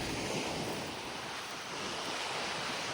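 Continuous roar of sea waves at a river mouth where the river meets the sea, with wind buffeting the microphone, steady and close, no voices.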